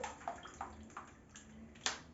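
Shower water runs and splashes in a bathroom during a test of a recycled toy boat, a steady hiss broken by a few louder splashes, fairly faint and with no talking.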